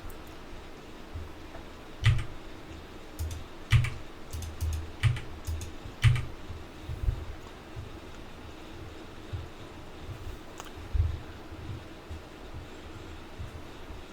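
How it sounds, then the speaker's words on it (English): Quantities being typed on a computer keyboard during inventory order entry, with short bursts of close key clicks, a few presses at a time, separated by quiet pauses, no talking. "then I can just manually type in the quantities there."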